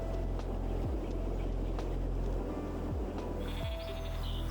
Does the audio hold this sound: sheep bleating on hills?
yes